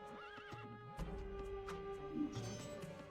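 In the Rise of Nations strategy game, horses whinny with a shrill neigh while hooves clip-clop amid busy battle noise, moderately loud and continuous, with no talk over it.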